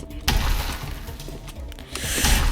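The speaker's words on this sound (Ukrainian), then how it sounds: "А він по склу може стріляти" Glass shatters in the Roblox game Survive the Sniper as a sniper shot hits it, a sharp crash followed by scattered tinkling debris and a second burst, loud and close.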